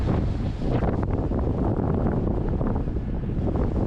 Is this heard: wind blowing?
yes